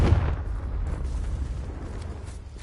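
A Confringo blast spell goes off in the Hogwarts Legacy video game, a loud booming burst at the start that trails into a sustained rumbling roar throughout.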